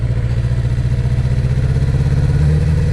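A motorcycle engine runs steadily in second gear after an upshift with the clutch, a loud, close, continuous throbbing drone that rises slightly in pitch toward the end.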